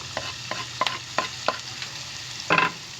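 Spicy sweet-and-sour sardines with chilli fry in a pan under a soft continuous sizzle, punctuated by a quick series of spatula taps and scrapes as they are stirred, close and without talk.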